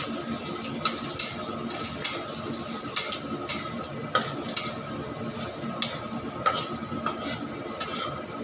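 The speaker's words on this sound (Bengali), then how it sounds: "বড়িটা আমার ভাজা ভাজা হয়ে গিয়েছে, দিয়ে দিলাম থেতো করে রাখা 5-6 কোয়া রসুন।" Lentil dumplings (bori) with crushed garlic fry in hot oil, a steady sizzle broken by about a dozen sharp scrapes and clinks as a utensil stirs the pan.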